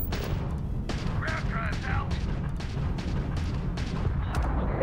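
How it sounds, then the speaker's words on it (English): Repeated heavy ballistic cannon blasts in the game Starfield boom over a dense, rumbling game soundscape, several shots spaced out across the stretch with crackling impacts. "Ballistic cannon."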